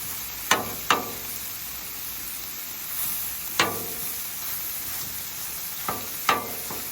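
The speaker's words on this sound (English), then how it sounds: "As you can hear, our cabbage is still sizzling." Continuous hiss and crackle of cabbage and corned beef sizzling in olive oil on a hot griddle at medium, broken by several sharp metallic scraping taps from a spatula; no voices.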